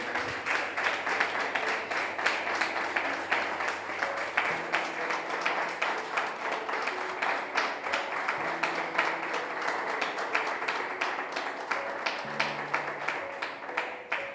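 A church congregation claps steadily and continuously, a dense, even patter of many hands under sustained organ or keyboard chords.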